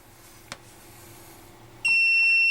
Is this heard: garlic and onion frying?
no